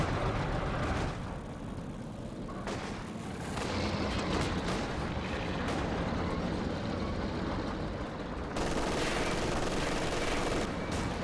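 In a World War II strategy video game, an Easy 8 Sherman tank fires amid heavy combat, with loud cannon blasts and bursts of gunfire over a constant battlefield roar.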